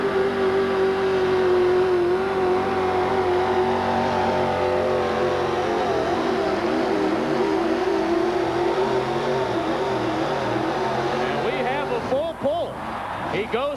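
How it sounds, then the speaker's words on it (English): A 1986 GMC pulling truck with a 665 cubic inch all-aluminum Rodak engine, based on a Chevrolet, roars at full power down the track at a truck pull in Anaheim, one loud continuous engine howl with wavering pitch. "The truck sounded great all the way down"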